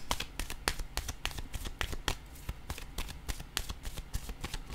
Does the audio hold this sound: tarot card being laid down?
yes